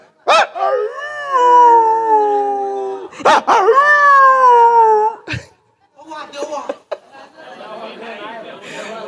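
A man imitates a dog howling with his voice, giving two long, loud wavering howls that rise and then slowly fall, followed by a brief yip and softer whimpering, rough vocal sounds.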